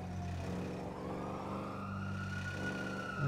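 Police car sirens wail in the GTA V video game, a steady wavering tone sustained over constant engine and traffic rumble throughout, fairly loud with no talk.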